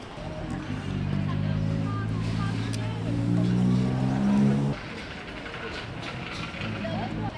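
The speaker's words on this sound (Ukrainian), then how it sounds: "А, машина едет." A car drives past on a Bangkok street, its engine note rising and falling nearby for a few seconds, then fading into street background while people talk.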